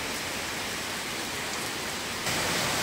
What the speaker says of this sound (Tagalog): Grabe yung ulan dito sa Makati talaga. Lakas.